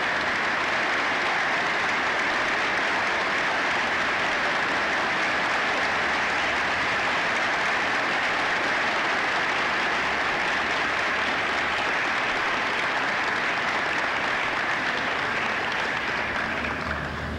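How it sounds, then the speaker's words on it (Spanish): A large audience at the Ateneo Puertorriqueño centennial address gives sustained, dense applause that holds steady and full for the whole stretch, with no talking over it. "amuel R. Quiñones y Vicente Geis el Polanco, para quien pido un aplauso."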